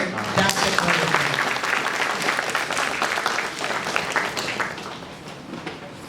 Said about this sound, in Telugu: వారందరికీ మీరు ఒకసారి చప్పట్లతో థాంక్స్ చెప్పుకోండి.